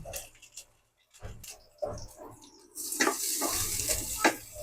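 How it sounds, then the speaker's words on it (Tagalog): Chopped onion and garlic sautéing in a pan for a carrot and chayote dish, a soft sizzle with intermittent spoon scrapes and stirring clatter, the frying hiss swelling louder toward the end. "ilagay na rin po natin ang ating bawang"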